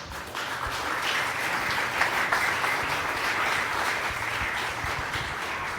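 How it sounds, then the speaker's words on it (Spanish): A church congregation gives sustained applause, steady and fairly loud, with many hands clapping together for about six seconds and no speech over it. "¿Qué tal si terminamos dando un aplauso al Señor?"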